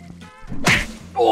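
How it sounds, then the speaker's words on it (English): A baseball bat strikes a character in the video game Paint The Town Red, making the head explode in a sudden close, loud splattering thwack midway, set between game music tones, with no speech. "Oh! That head explosion."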